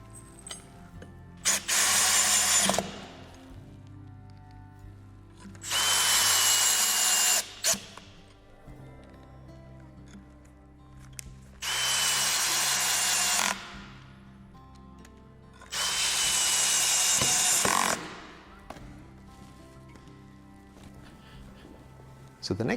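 A power drill drives four wood screws through a faceplate into a wooden salad bowl blank for woodturning, in four separate whirring bursts of about two seconds each with quiet pauses between.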